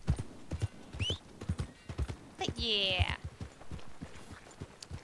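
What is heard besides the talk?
horse clip-clop and whinny in Red Dead Redemption 2 video game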